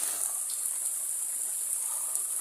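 Heavy rain pours down in Hasilpur, Bahawalpur district, Punjab, Pakistan, in a constant bright hiss, unbroken and even throughout, with no voices.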